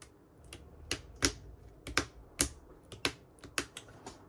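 Keystrokes on a silent GMK67 mechanical keyboard build, a dozen or so soft, muted clicks in an uneven typing rhythm, close and fairly quiet, with no voices.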